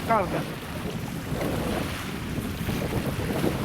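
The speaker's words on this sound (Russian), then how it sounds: "Шум реки, прям как на море." River water laps along the Volga embankment with a broad wash of waves and gusting wind noise on the microphone, steady throughout, with no talk.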